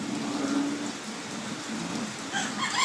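Backyard chickens making faint calls outdoors during heavy, continuous rain, with steady rain noise throughout and a few higher chirps near the end.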